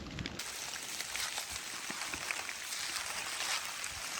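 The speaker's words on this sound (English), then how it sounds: "That rain is coming down now." Outdoor rain falls on farm timberland, a soft, steady wash of drops with faint scattered patters, fairly quiet and continuous with no talking.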